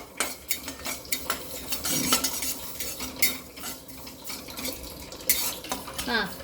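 Kalonji seeds are dry-roasted and stirred in a pan, with a spoon scraping and clinking against the metal in repeated sharp knocks over a faint background hiss and no speech.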